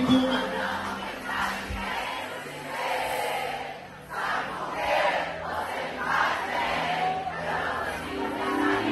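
A large crowd at a show in Morro de São Paulo, Bahia, sings loudly together, a dense wash of many voices with cheering, continuous and roomy.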